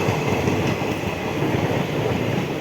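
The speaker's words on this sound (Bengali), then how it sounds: "লালগোলা এটা পুরো ছাপড়ি ট্রেন" A Lalgola passenger train runs along the tracks with a steady rumbling roar and faint rhythmic clatter of wheels, heard close and continuous from on board or beside the carriages, with no talking.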